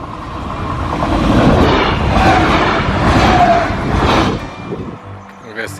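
Second train rolling past a railway crossing while the barriers stay down, a loud broad rumble and rattle swelling and holding for several seconds before easing off, close to the listener.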